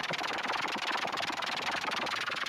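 Boat engine running during a rainy ride at Jaflong, Sylhet, a continuous buzzing mechanical drone with a fast, even pulse and steady loudness.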